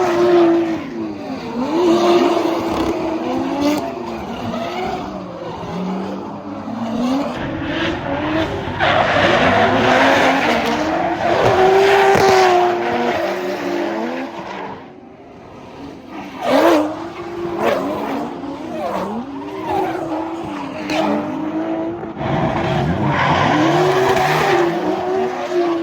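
Cars drifting at an underground scene in Japan, tires skidding and squealing in long sustained screeches over revving engines, loud and continuous with brief lulls between passes.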